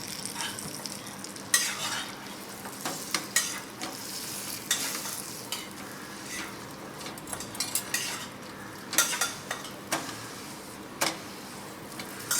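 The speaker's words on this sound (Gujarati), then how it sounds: "હવે આને છે ને આવી રીતે આ દાબનિયાથી આમ દબાવીને કડક કરી નાખવાનું" Food is pressed flat with a presser as it crisps in hot ghee, producing a steady sizzle broken by frequent metallic clicks and clanks from the presser against the pan.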